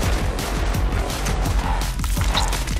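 Dense, loud shotgun fire in Borderlands 2, with a continuous run of booming blasts and crashing impacts piling on top of one another throughout.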